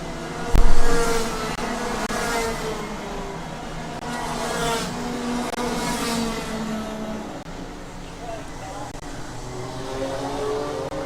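Race cars at a live motorsport event (CPKC Wessex Challenge) roar around the track in a steady, loud engine drone with shifting pitch as cars pass, while a commentator talks over it.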